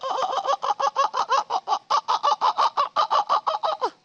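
A human voice imitates a chicken's cry, with about twenty quick, loud, rhythmic clucking bursts in steady succession, close and alone.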